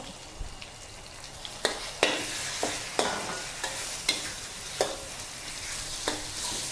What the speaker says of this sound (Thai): ใช้ไฟกลางๆนะคะ ค่อยๆผัดค่ะ กระจายหมูสับให้มันแตกตัวเนาะ